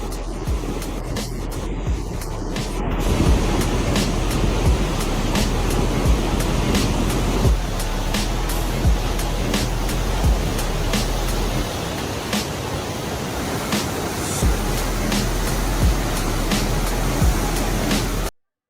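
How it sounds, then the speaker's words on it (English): Massive flood waves surge in a river, a loud, continuous roaring rush of turbulent water with periodic crashing bursts, carrying on steadily until an abrupt stop. "there's something impressive about these massive waves"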